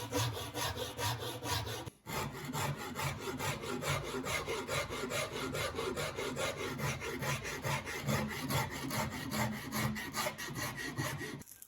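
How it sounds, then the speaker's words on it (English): Rhythmic rasping strokes of a hand file shaping a wooden sword scabbard, fast and even back-and-forth scraping with one short pause near the start. "I'll refine the shape with some hand filing"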